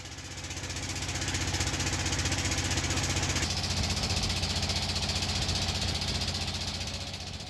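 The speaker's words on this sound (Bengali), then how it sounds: "আমাদের নৌকাও ইঞ্জিনের বিকট শব্দ তুলতে তুলতে ঘাটে পৌঁছে যায়" A boat's engine roars steadily and loudly on a river approaching a landing in Sylhet near Bichnakandi, a dense mechanical drone with a knocking vibration that runs unbroken throughout.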